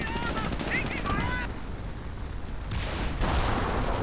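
Bursts of gunfire and booming artillery from a World War II-style strategy game battle with a flamethrower unit, rapid crackling volleys over a dense rumbling backdrop, fairly loud and continuous.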